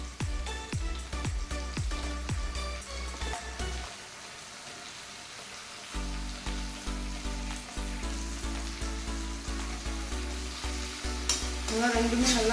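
Onions and tomatoes sauté in a pan for a chickpea gravy, giving a continuous loud sizzle with repeated metallic taps and scrapes of a spoon stirring, plus a steady low hum underneath.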